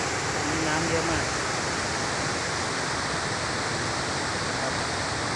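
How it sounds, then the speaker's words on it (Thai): Heavy post-rain flow at a waterfall in a balloon park, rushing as a thick continuous roar, close and even throughout with no break or speech. "บรรยากาศน้ำตกนะครับหลังจากฝนตกเมื่อวานนี้"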